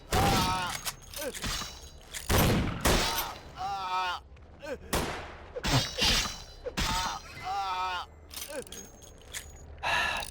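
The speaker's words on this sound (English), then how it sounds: "Shotgun to the face hurts." Shotgun blasts and gunfire in the Vampire: The Masquerade – Bloodlines game come as several sharp, loud, closely spaced reports amid clattering impacts and character grunts or gasps.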